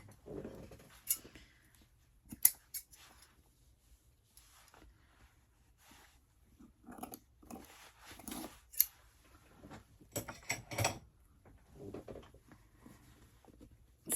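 Scissors snip through upholstery fabric on a vanity chair, scattered close crunchy cuts in short irregular bursts separated by quiet pauses.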